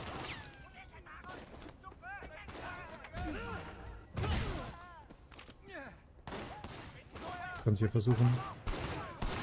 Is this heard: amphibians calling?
no